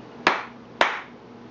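Two sharp hand claps about half a second apart switch on a clap-controlled Christmas tree, each a crisp close burst with a short tail over a faint steady hum.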